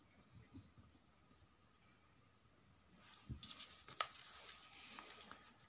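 A pen scratches across paper as a title is written by hand, quiet at first and then a run of faint, irregular strokes and taps close by.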